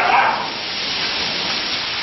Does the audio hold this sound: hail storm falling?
yes